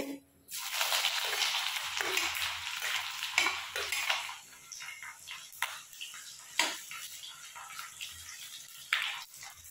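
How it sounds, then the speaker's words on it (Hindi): Close, steady sizzling of ginger frying in hot oil, with a loud burst at the start, then scattered pops and clinks of stirring. "तेल है वो गर्म हो गया है तो अब अदरक है सबसे पहले हम इसमें अदरक डाल देते हैं"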